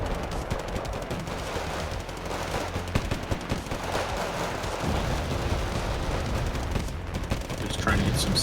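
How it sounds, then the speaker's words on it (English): Missiles fire and pound an area in a wargame battle, a dense continuous barrage of blasts and rattling gunfire with low rumbling impacts, loud throughout with a heavier thump near the end. "A couple missiles pelted the area."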